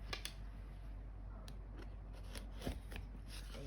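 Scissors or a cutter trim quilting fabric along a Stripology Squared ruler, giving a few faint, crisp snips and clicks scattered over a few seconds, close but quiet.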